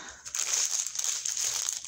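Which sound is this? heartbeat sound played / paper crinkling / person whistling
paper crinkling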